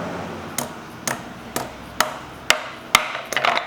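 A soft-faced hammer taps an engine part loose during engine assembly, seven sharp knocks at an even rhythm about half a second apart, close and clear, with a quicker cluster at the end and no talk.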